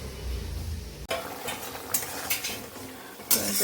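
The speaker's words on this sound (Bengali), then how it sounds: "আর এদিকে হচ্ছে এই যে বড়া ভাজা, ডালের বড়া" Lentil fritters (dal bora) frying in a pan: a steady close hiss of sizzling oil, broken by scattered clinks and scrapes of a utensil, with no talking.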